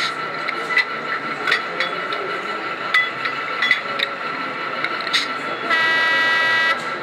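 An ESU sound-equipped model locomotive on display at the 2014 Nuremberg Toy Fair plays a recorded real horn, a single steady toot near the end after scattered light clicks and taps, with faint talk in the background.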